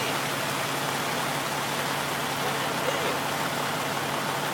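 A car drives through a flooded street during heavy rain, heard as a constant hiss of rain and splashing water spread evenly across the clip, with no distinct engine note.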